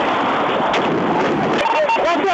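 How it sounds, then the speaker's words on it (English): Shots are fired into a vehicle in a dense, continuous, loud burst of gunfire lasting a couple of seconds, with shouting mixed in. "Shots fired!"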